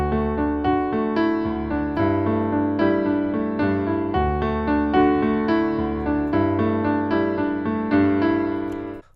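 Solo piano plays a song in a steady eighth-note straight feel, with even, sustained chords pulsing continuously and loudly, with no voices.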